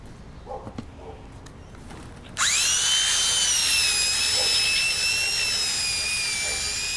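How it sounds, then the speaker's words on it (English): A small belt sander starts partway through and runs steadily on the edges of hard ironbark timber for a bullnose on a TV stand, a loud, continuous high whine over a quiet room. "I'm using a small belt sander."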